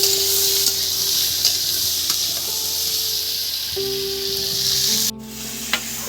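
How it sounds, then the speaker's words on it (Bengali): Carrots, beans and tomatoes are stir-fried in a pan for vegetarian bhog khichuri, a continuous close hiss and sizzle with faint tones underneath. The level dips briefly near the end, then the sizzle carries on. "গাজর আর বিন আর টমেটো দেখুন আমি নেড়ে চেড়ে নিয়েছি"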